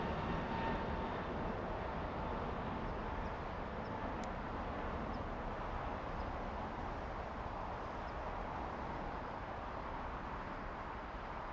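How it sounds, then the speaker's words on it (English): A Lufthansa Airbus A350 from Munich on final approach at LAX gives a steady, broad jet roar that holds at an even level throughout, distant and continuous, with no voices. "Lufthansa A350 on final approach"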